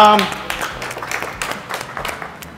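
Applause from an audience at a game-show style event, a dense burst of clapping that carries on under a voice talking over it.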